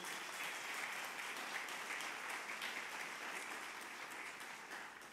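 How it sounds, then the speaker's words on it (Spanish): A church congregation claps during a Spanish-language sermon, a soft, fairly distant patter of many hands that stays even and then slowly fades toward the end. "¿Por qué no le das un aplauso fuerte a Cristo Jesús?"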